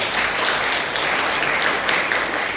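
A church congregation claps during a Sunday service to welcome two visiting sisters who stand, a full, even burst of applause that fills the room and stays strong throughout, with no voices over it.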